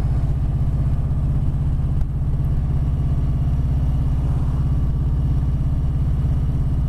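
A 2020 Harley-Davidson Sport Glide cruising at a steady 30 mph on a sunny coast road, its engine producing a continuous loud, deep rumble with wind, no speech.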